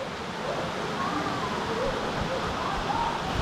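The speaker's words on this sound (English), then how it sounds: "So this is called GB waterfall in Himachal Pradesh, and it's a very beautiful waterfall." A waterfall in a Himachal Pradesh valley cascading down a hillside, a steady broad rushing roar heard from moderately near, continuous and without talk.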